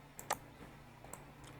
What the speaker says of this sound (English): enter on your keyboard and let's see how things look